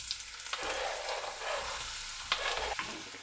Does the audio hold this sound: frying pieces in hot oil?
yes